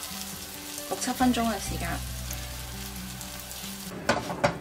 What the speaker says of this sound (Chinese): make sure 两边咧都煎到去金黄色